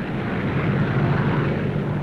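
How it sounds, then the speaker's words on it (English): Propeller planes of the 1948 Berlin airlift roar overhead in a steady, loud, continuous drone with no voices. "When West Berliners rose each dawn, it was again to the roar of planes."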